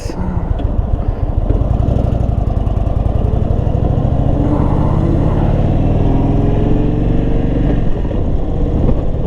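A 2022 Indian Super Chief motorcycle is ridden at speed, its engine giving a steady deep rumble with wind noise, close and continuous, with a voice talking over it.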